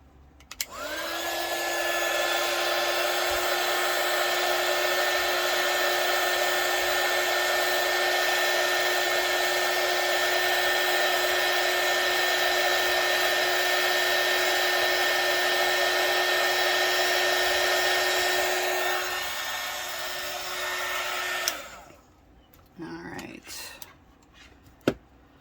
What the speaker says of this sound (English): use a hot air gun